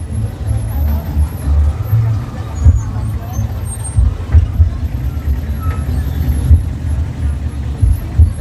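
Road traffic rumbles past a moving auto-rickshaw on the road from Munshiganj to Narayanganj, a continuous low engine drone with passing vehicles, under intermittent voices.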